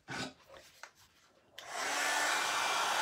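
Hair dryer drying paint on a tile, a few soft knocks and rubs first, then the dryer switches on and blows a loud, steady whoosh to the end.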